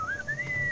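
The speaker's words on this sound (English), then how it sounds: "What is that enchanting whistling sound?" A short, sliding tonal whistle in the Sam & Max: Beyond Time and Space video game, a single clear rising and falling melodic phrase with a faint low hum underneath.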